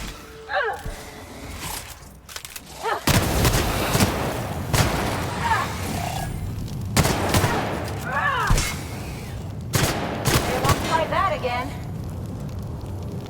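Bursts of gunfire from an upgraded weapon in the video game The Outer Worlds, loud repeated volleys over several seconds, with someone talking over and between the shots.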